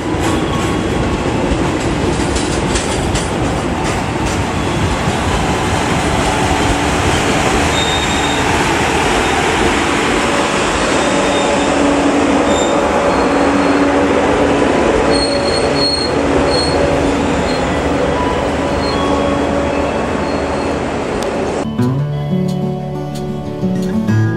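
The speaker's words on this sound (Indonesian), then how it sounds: "kereta api diberangkatkan dari stasiun Banyuwangi Kota" The Sri Tanjung passenger train, hauled by a CC 201 locomotive, departs Banyuwangi Kota station loudly and close by, wheels squealing and rumbling continuously over the rails, the roar dropping off sharply near the end.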